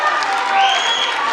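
Audience in a hall at a Papua gubernatorial public debate applauding, a short dense burst of clapping and crowd noise.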